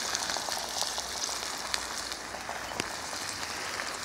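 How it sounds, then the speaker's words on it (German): A pan of meatballs with garlic sizzles hard after being deglazed with stock, a dense, steady hiss with scattered crackles and small pops close by. "Jetzt löschen wir das Ganze mit der Hälfte von dem Fond ab."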